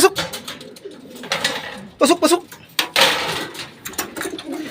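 Racing pigeons coo in soft repeated bursts close by at the loft during a race clocking, mixed with rustling, flapping and someone talking.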